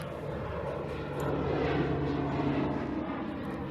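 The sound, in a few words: aeroplane flying over hippo pond near Khwai River Airport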